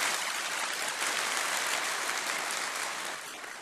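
An audience at a formal ceremony applauds together in a dense, sustained wash of clapping that holds steady and then begins to fade at the end, with no voices.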